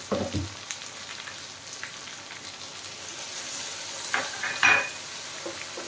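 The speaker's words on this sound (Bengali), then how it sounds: "এবার আমি একটু ধনে দেবো, একটু গরম জল দিয়ে মিশিয়ে দিচ্ছি ধনেটা" Ground coriander mixed with hot water frying in a pan for a prawn, milk and poppy-seed curry, a soft low sizzle with a few light utensil clinks and scrapes.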